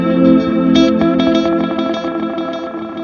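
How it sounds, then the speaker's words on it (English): A guitar plays a short ambient phrase through a digital delay, the notes repeating and trailing off in a stack of echoes alongside other delays. "So you can hear that digital delay kind of popping out a little more than the others."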